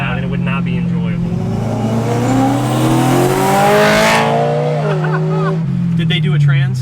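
BMW M3 with the S65 V8 engine, quad resonators and a GTS transmission tune, revving hard through its exhaust, a loud sustained roar that climbs and drops, with people talking over it.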